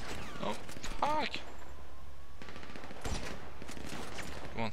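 Rapid bursts of gunfire from GTA 5 on PS3 during a boat heist mission, crackling in dense volleys amid game effects, with a player talking over the action.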